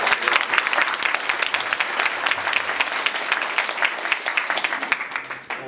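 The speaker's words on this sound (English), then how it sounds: "So one more round of applause for the Federation guys." An audience gives a sustained round of applause for the Federation volunteers, dense and steady clapping from a large crowd that holds at full strength for several seconds.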